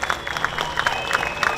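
A concert crowd applauding and cheering in steady bursts of claps and shouts, moderately loud and close, with no talking over it.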